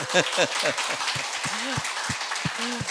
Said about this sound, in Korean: 박수 한번 해줍시다.